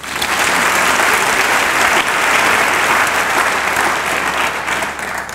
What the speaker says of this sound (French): Est-ce que tu peux acclamer Jésus de Nazareth?